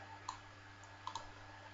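Faint, sharp mouse clicks on a trophy icon, two or three quick ticks over a quiet background hum.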